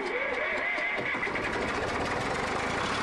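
A Zetor 3011 tractor engine in Farming Simulator 17 turns over and starts, settling into a steady, loud mid-pitched running rumble that fills the whole stretch.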